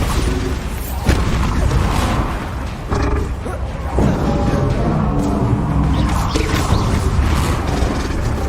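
Spell explosions from Bombarda and Confringo in the Hogwarts Legacy video game, heavy booming blasts and crashing impacts in a dense, loud, continuous battle din with several sharp hits.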